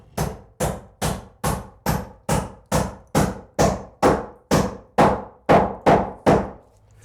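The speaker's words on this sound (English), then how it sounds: "put a nail through to hold it in place" A hammer drives a nail through a timber wedge on house framing, with a dozen evenly spaced, loud, close strikes, each sharp thunk ringing briefly before the next.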